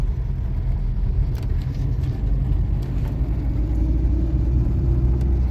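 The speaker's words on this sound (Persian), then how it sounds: "یعنی اون ماشین کی بود؟" A car rumbles steadily close by with a continuous low engine drone, passing on a street and holding loud throughout with no talk.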